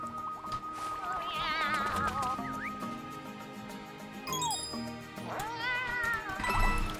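Cartoonish cat meows in the video game Bowser's Fury, several rising and falling mews scattered over light background music and jingles, clear and fairly close.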